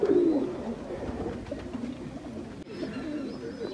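Domestic pigeons coo steadily in a rooftop loft after being fed grain, a low burbling call that runs close and fairly loud across the whole stretch, with faint higher chirps now and then.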